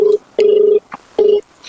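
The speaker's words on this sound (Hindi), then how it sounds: "ये तहसीलदार मैडम को फोन लग रहा है।" A phone rings out to a tehsildar's office in a series of short steady electronic tones, each lasting a fraction of a second with brief gaps between, close and loud.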